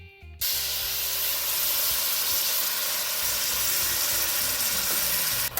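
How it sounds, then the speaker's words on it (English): Turmeric and curry powder hit hot oil for a beef curry, setting off a loud, steady hiss that begins abruptly and holds evenly throughout, with no talking. "1 teaspoon of turmeric and 2 tablespoons of curry that I'm going to add to the oil"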